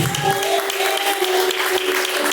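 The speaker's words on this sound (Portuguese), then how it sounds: "as palmas que louvam a Deus." A burst of clapping from a church congregation, dense and lively, lasting a couple of seconds without talk.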